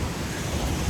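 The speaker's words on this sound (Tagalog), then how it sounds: "Ayun na, laking alon." Big ocean waves crash and surge at Koura Beach in Japan, a continuous loud roar of surf with wind buffeting the microphone throughout.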